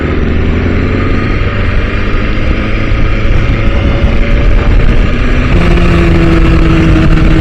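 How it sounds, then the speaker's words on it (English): A BMW S1000RR motorcycle engine drones loudly and continuously while riding, with rising and shifting engine tones and heavy wind rumble. "I just love the sound of this bike"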